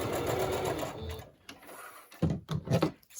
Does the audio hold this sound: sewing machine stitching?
yes